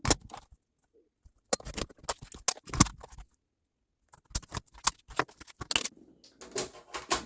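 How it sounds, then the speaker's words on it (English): Crafting card is cut down to a 3 by 5 inch panel with a paper trimmer, giving close, crisp bursts of clicking and slicing in uneven runs, broken by a brief quiet pause. "So I'm going to cut a piece of 3 by 5."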